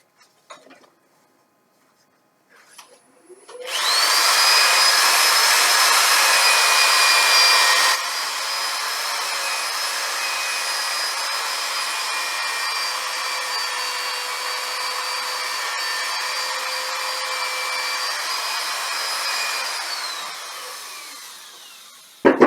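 A steady high-pitched whir from a spinning lathe, with a rough sanding hiss against the wood that carries on for about fifteen seconds before winding down.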